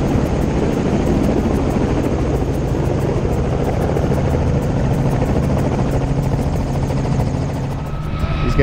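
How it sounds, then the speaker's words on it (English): Helicopter landing at an airfield during the Oshkosh fly-in, a loud steady rotor and engine roar holding close throughout with no talk. "We watched the helicopter land while we were sitting on the side of the runway."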